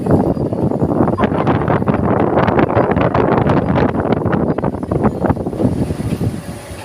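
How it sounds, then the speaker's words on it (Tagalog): Strong wind buffets the microphone in loud, continuous rumbling gusts with no pause. "Sobrang lakas ng hangin."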